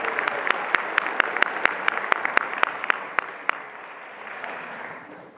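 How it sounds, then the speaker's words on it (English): Graduating crowd applauding at the UC Berkeley School of Optometry & Vision Science 2025 commencement, a dense steady wash of many hands with sharp individual claps standing out, then thinning and fading toward the end. "Yes, definitely worthy of applause."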